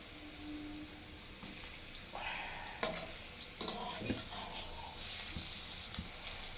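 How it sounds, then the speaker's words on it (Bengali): Pitha cakes frying in oil over a lowered gas flame: a faint, steady sizzling hiss with occasional soft clinks and stirring sounds, fairly distant and quiet. "গ্যাসটা একটু কমিয়ে ভাজবো, নাহলে পোড়া লেগে যাবে।"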